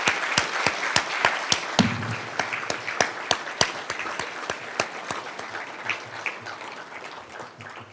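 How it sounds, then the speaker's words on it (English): Applause for graduating students at a Penn State EME awards banquet opens with a few sharp, distinct claps close by, then thickens into a steady round of clapping from the audience that gently tapers off. "please give our graduating students a warm round of applause"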